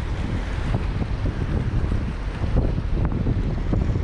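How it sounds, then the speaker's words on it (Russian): The fast, turbulent Terek mountain river near Upper Lars in the mountains gives a steady, close rushing roar that runs throughout, with some wind buffeting the microphone. "Я думаю, слышно, как река шумит."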